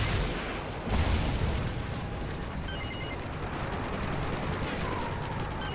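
Dense gunfire and explosions from the video game Call of Duty: Ghosts, with a constant loud wash of shots and blasts and no clear talking.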